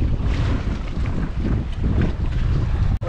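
A strong gust of wind roars steadily across the microphone, loud and unbroken, with a brief drop in sound just before the end.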